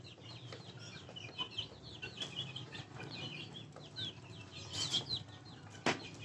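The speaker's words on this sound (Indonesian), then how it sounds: "Ini ayam umur 3 bulan." Three-month-old chickens cluck and chatter in a farm pen, with scattered wing flaps and one sharper squawk near the end, steady background clucking throughout and no speech.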